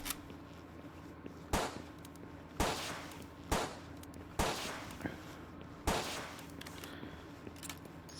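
Six handgun shots go off in the Palworld video game, sharp separate cracks spaced about a second apart over a quiet background, each followed by a short decaying tail.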